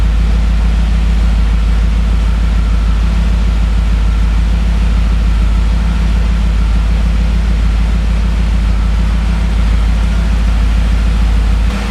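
A 2000 BMW M5 engine idles steadily while warming up, a constant deep low rumble with even texture, close and loud, running alone without talk for the whole stretch.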